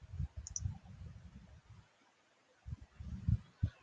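Computer mouse clicking, a handful of soft close clicks in two short clusters separated by a quiet pause, no talk.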